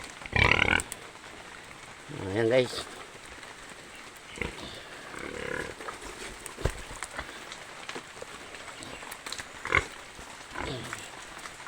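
A pregnant pig grunts in short rough bursts close by, amid rain pattering on a surface, with a person speaking briefly between the grunts.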